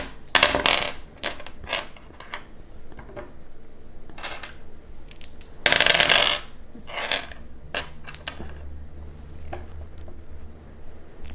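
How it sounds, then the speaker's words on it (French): Dice rolled for the board game Set a Watch, a series of sharp clattering hits and rattles on a table, with a denser tumbling rattle partway through, close and fairly clear. "On va lancer nos dés. Alors chaque personnage lance ses dés"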